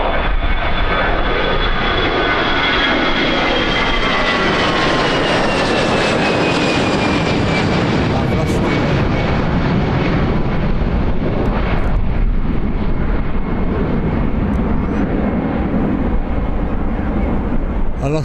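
EasyJet airliner passing near Birmingham Airport, a loud, sustained jet engine roar that swells and slowly shifts in pitch as it flies by, with wind buffeting the microphone throughout.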